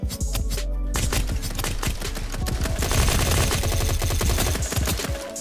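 Dense, continuous assault rifle fire in the battle royale shooter Rift Royale, rapid overlapping bursts and shots from several weapons rattling on loudly without pause, with no talking.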